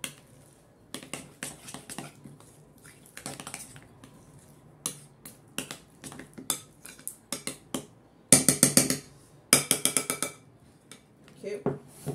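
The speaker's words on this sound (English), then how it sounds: "So we have to mix the three dough like that" Salty muffin dough being mixed by hand in a bowl, heard as irregular close clicks, taps and scraping knocks of utensil on bowl, with a denser burst of clattering near the end.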